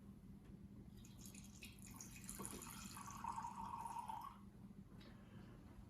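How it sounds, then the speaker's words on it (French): A bathroom sink where copper pieces treated with nitric acid are rinsed, with faint running and dripping water, a gentle trickle that swells briefly in the middle, quiet and close, no talking. "Donc je rince, je mets de l'eau"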